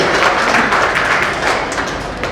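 Dense, loud applause from an audience at a community award distribution ceremony, continuous clapping filling the whole moment.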